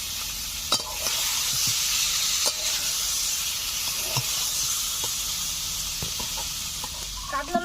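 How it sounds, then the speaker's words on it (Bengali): Fried katla fish sizzles as it is stir-fried in masala for a village-style Bengali jhal, giving a continuous hiss with periodic scraping and tapping of the spatula against the pan. Most of the noise is moderately loud, and a brief busier clatter comes at the very end. "ভেজে রাখা কাতলা মাছগুলোকে মশলার উপরে দিয়ে আরো কিছু সময় আমি কষে নেব।"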